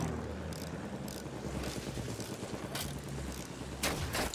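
A World War I warplane in Battlefield 1 drones through a chaotic battlefield, engine rumble blending with scattered gunfire and sharp bursts, moderately close but partly buried in the surrounding combat din.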